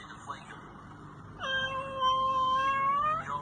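A house cat meows in a long, drawn-out plaintive cry after failing to get outside, preceded by a short faint mew, close and clear with a voice murmuring underneath.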